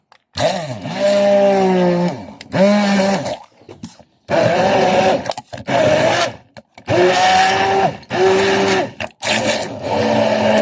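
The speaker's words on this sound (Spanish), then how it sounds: "Acá yo voy a proceder a licuarlo para echarlo nuevamente el caldo." A kitchen blender purees chicken broth with vegetables in several loud whirring bursts, each starting and stopping with short pauses between, no talk.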